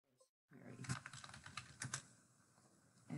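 Typing on a computer keyboard: a quick run of close, crisp key clicks in an uneven rhythm that slows and thins toward the end, quiet in a still room.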